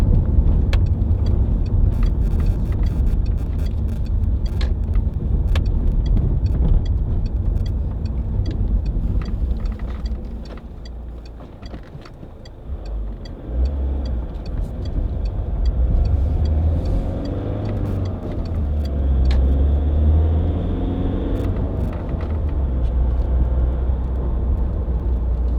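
A 2007 Peugeot 807 2.0 HDi Executive MPV on the move: a steady low engine and road rumble inside the cabin with scattered small clicks, easing briefly midway then returning.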